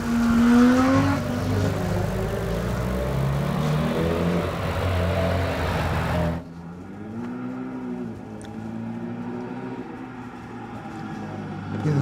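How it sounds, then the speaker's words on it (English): A bright orange Datsun 1600 charges up a damp hillclimb course, its engine rising and falling through gear changes, loud at first and then more distant and muffled, with no talk over it. "Gavin Molden's Datsun 1600 is charging up there now, the bright orange Datsun."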